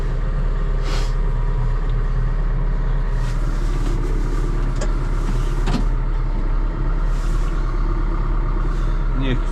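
A John Deere tractor diesel engine idles after a cold-weather start on a sound battery, a steady loud close rumble running throughout with a few faint knocks and noises on top.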